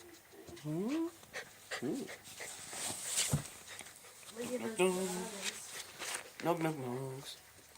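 A family dog carried in a bag pants and whimpers in soft, broken bursts, close by, mixed with people talking and cooing over it.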